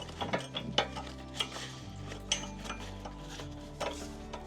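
Ratchet tightening bolts while a winch is fitted to the front of an overland vehicle; quick bursts of metallic clicking over a low hum, moderately quiet, with no talk.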